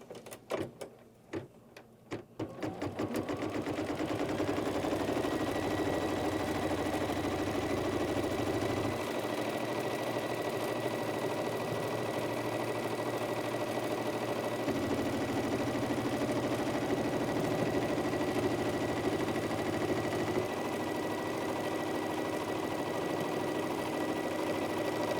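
An embroidery machine stitches a quilt block held in the hoop, droning steadily with a fine repetitive needle pulse; a few clicks and knocks come first, then the motor holds an even pitch, shifting slightly in tone partway through.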